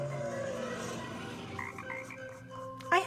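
Frogs croak outdoors in a dense, steady chorus of overlapping calls, with a few higher, brighter croaks toward the end and no voices.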